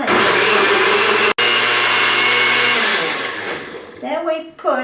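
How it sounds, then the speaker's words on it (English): A kitchen blender roars loudly while blending potatoes with liquid for potato pancakes, dropping out for an instant, then winding down and sputtering as the motor slows near the end. "So I'll put that on and put the blender."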